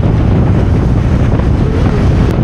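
Heavy wind roar buffets the microphone during a motorcycle ride in rain, a loud continuous rushing with no pauses.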